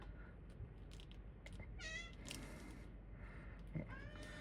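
A house cat meows several times indoors, short faint calls close by, with a few rising and falling cries over a quiet background.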